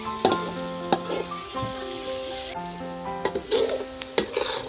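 Steady crackling sizzle of pork frying in hot oil, with occasional louder pops and spatters and a faint tonal hum underneath; no voices.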